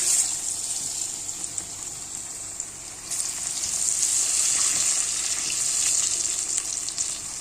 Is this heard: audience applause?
no